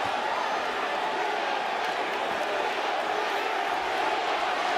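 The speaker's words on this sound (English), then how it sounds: "Wilder brought the crowd into it as the USA chants." Dense, steady roar of a boxing arena crowd during a heavyweight bout between Deontay Wilder and Johann Duhaupas, a broad continuous wash of massed voices that holds loud throughout, the USA chant blurred into the general din.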